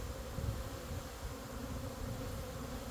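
Honeybees flying around a hive on a spring day, a dense, steady buzzing drone from many insects close by, with slight swells in loudness and no voices.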